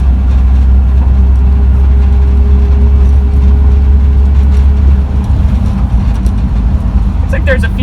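An air-cooled Volkswagen engine drones loudly and continuously from inside the car as it drives, with a slight dip in the note around a gear change; a few brief clicks come near the end.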